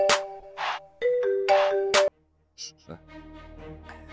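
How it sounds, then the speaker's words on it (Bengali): A mobile phone ringtone plays a bright repeating chime melody, several notes in a row, close by, then stops and faint background sounds follow. "আমার ফোন আব্বা ফোন দিচ্ছে, ধরবো?"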